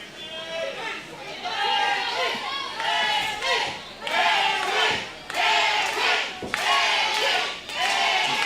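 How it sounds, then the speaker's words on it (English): An indoor wrestling crowd chants in unison for a wrestler, loud rhythmic waves of massed voices rising and falling in repeated phrases, with some chatter mixed in. "Crowd chanting for Langley"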